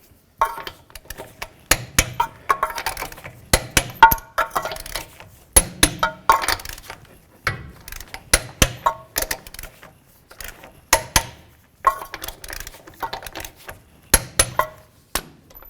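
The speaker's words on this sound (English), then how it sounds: "let's go ahead and torque the wheel in a crisscross pattern to 83 foot-pounds" A torque wrench clicks repeatedly as the front wheel lug nuts on a 2005–2015 Toyota Tacoma are tightened in a crisscross pattern to 83 foot-pounds, giving sharp, close metallic clicks in uneven bursts with brief pauses between nuts.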